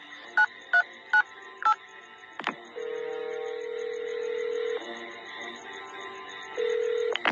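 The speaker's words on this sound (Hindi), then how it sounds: "अपने मोबाइल से किसी को फोन करने लग जाता है" A few short mobile phone keypad beeps are pressed one after another, followed by a steady ringing tone that pauses and resumes, with no one speaking.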